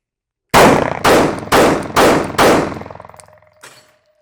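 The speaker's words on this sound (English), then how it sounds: "Right now, I'm going to be shooting into the thoracic cavity though." Five loud, sharp gunshots fired at a KTAK target, spaced about half a second apart, each with a short ringing tail, followed by a faint later impact.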